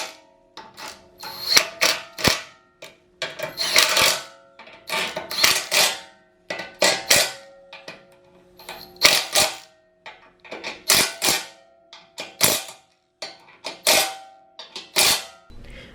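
Bolts being tightened on a Jeep Wrangler mount bracket give close, dry ratcheting clicks in quick repeated bursts, with short pauses between strokes and no talking.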